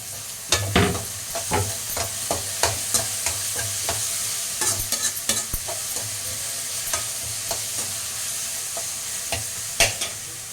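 Onions and tomatoes sautéing in a pan for a chicken curry, a continuous close sizzle broken by repeated sharp scrapes and taps of a spatula stirring, with a low steady hum beneath.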